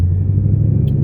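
A Lexus RC F engine idles steadily after a fuel pump booster install, running rich on methanol, with a continuous low rumble close by and a faint brief tick near the end.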